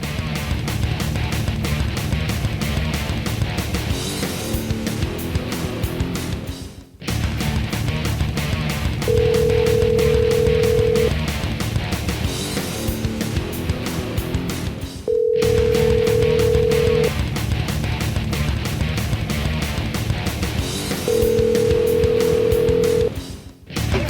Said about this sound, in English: we're going to get him on the phone right now and see if we can't talk to him about it